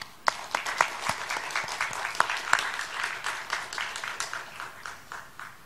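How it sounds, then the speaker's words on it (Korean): A church congregation applauds loudly during a Christmas service, a full, sustained burst of many hands with a few sharp individual claps standing out, continuing evenly to the end. "크게 한번 박수하겠습니다."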